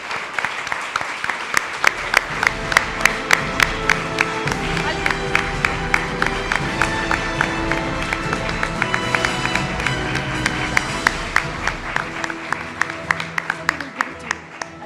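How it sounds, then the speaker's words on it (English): An audience at a business leader awards ceremony applauds steadily for the whole stretch, dense clapping with sharp individual claps standing out, and a voice speaks briefly over it. "Louder round of applause is called for."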